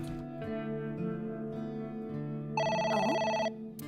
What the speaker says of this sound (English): It's the phone. Maybe try picking it up?